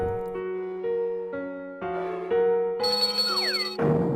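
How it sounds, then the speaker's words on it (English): A bell-like ringing plays as a sequence of clear, sustained tones, stepping up and down in pitch and ending in a brief burst of noise. It is moderately loud and heard alone. "The ringing bell."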